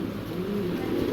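A female Russian Angel pigeon cooing softly nearby, a low steady murmur with no talk over it.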